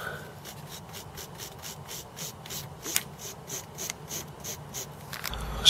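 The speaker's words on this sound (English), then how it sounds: "carefully cleaning the contacts here with a fiberglass pen" A fiberglass pen scrubs the contacts of a Commodore Amiga Zorro II RAM board in quick, regular, close-up strokes, a soft dry scratching repeated about three times per second.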